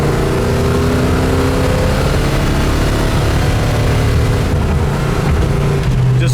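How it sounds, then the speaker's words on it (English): A 1970 Ford Cobra with a 429 V8 pulls hard through its gears on the road, a loud, continuous engine roar with rising tone heard from inside or close by, unbroken by voices. "Just launches right at 65, 70 into third."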